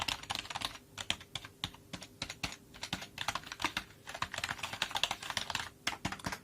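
Rapid, irregular key clicks from a Polosmart illuminated gaming keyboard being typed on, close and fairly quiet, with no other sounds.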